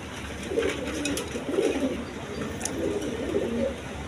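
Paired female pigeons give repeated low, throaty coos in short rolling bursts, close by over a steady background hum.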